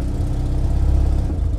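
Engine of an Invacar three-wheeler running at low revs while it is reversed slightly off a chock, a close, steady, throbbing idle with rhythmic pulses.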